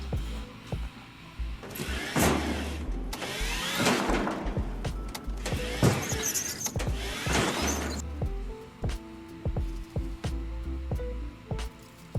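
A Eufy Robovac 30C Max robot vacuum cleaner moves about, giving close, uneven mechanical whirring and bumping bursts that ease into quieter clicks and hum toward the end.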